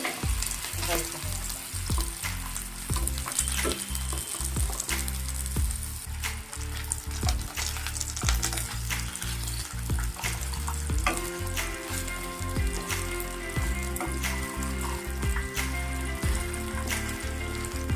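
Butter garlic chicken fries gently on a low flame, giving a steady, dense sizzle with occasional stirring clicks, heard beneath prominent rhythmic background music.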